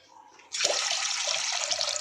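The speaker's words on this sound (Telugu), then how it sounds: "ఇదిగోండి రెండు గ్లాసులు ఇదిగోండి వాటర్ పోయాలి" Water poured steadily from a glass into a pan while making rava kesari, a sudden start followed by a continuous, close splashing rush with no talk over it.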